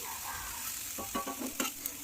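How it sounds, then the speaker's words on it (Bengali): Eggplant, tomato and garlic fry until lightly charred in a pan for begun bharta, with a soft sizzle and a few quick, close stirring scrapes over about two seconds. "সমস্ত বেগুন টমেটো রসুন একেবারে একটু পোড়া পোড়া করে ভেজে নিয়েছি"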